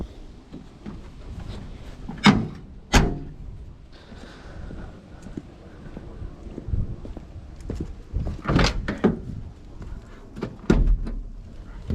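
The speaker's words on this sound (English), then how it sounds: "pop the hood." Hood of a 1977 Datsun 620 pickup being opened: a run of metallic clunks and latch clicks, with several sharp loud knocks and scrapes scattered over the stretch, close up.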